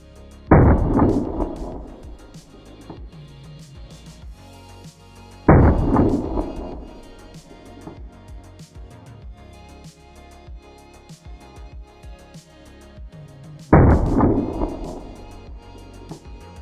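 Three deep, booming 9mm gunshots strike grasshoppers, slowed down in super slow motion, each a heavy blast that rolls off in a long, fading rumble, separated by quieter stretches.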